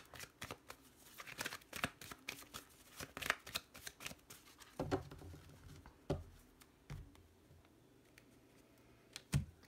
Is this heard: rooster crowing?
no